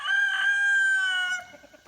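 A rooster crows loud and near on a Jackson County, Kentucky homestead, one sustained call that tails off into a few short clucks.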